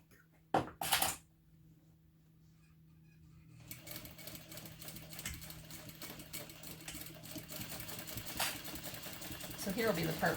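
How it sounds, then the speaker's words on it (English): Sewing machine stitching a fabric side panel seam at a half-inch allowance; after a brief clack and a quiet pause, a steady rapid mechanical whirring and ticking runs on to the end. "I'm going to sew with the side panel facing up"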